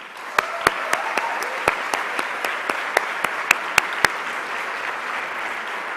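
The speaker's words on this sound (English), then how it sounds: "please join me in a hearty applause for all of the faculty" Sustained applause from a graduation audience honoring faculty, a dense steady wash of clapping with a few sharper individual claps standing out near the front, then trailing on evenly.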